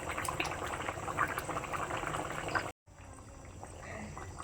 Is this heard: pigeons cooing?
no